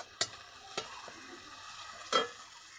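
Turmeric and chilli powder being fried and stirred in a pan for Bengali patol chingri, three sharp spoon scrapes over a faint, quiet sizzle.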